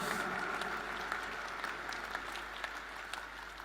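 Steady applause from a large church congregation during a sermon fills the space, a continuous wash of clapping at moderate distance without voices standing out.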